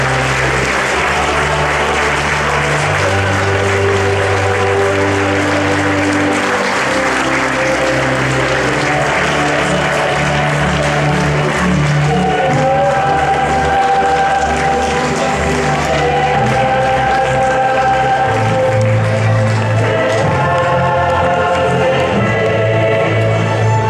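A crowd applauds SCO d'Angers' U15 youth football team at a tournament's opening ceremony. The clapping is steady and loud throughout, with music playing behind it.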